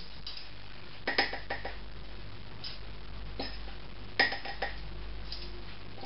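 A large tablespoon scoops unsweetened cocoa powder from a container, giving a few soft scrapes and light metallic clinks against the tin in two short clusters, fairly close against a quiet kitchen background.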